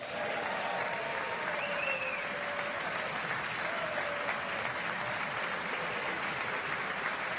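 Steady, sustained audience applause fills a large hall during a 2026 State of the Union address, a dense wash of clapping with no speech over it.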